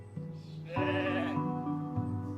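A sheep bleats close by in a series of quavering, wavering calls that pulse several times within a couple of seconds. The calls are clear, with no talk over them.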